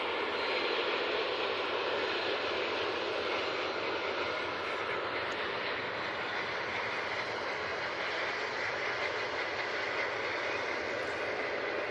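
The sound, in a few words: EasyJet airliner landing at Manchester Airport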